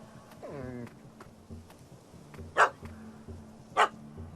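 A dog in The Witcher 3 game barks at a cat stuck up a tree: a brief whining yip followed by two sharp, loud barks spaced about a second apart, over a low steady game ambience.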